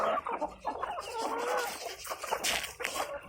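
Fighting-cross chickens cluck close by in a busy, overlapping stream of short calls, with no talking.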